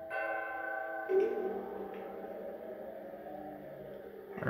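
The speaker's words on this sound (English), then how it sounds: "So the door opens if you ring the bell." A door bell rung in the video game Danganronpa, heard as a sustained, tonal chime with a soft bright strike about a second in, ringing steadily and moderately loud for several seconds.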